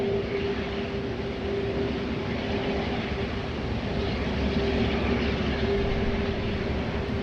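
A Qantas Boeing 747-8 arrives on runway 16 right at Sydney Airport, a steady, broad jet roar with a constant engine whine heard from a distance, holding level throughout with no voices.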